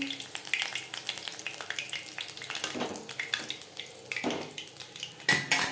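Egg and flour pakoras crisping in hot oil, a steady crackling sizzle broken by occasional utensil clinks and scrapes against the pan.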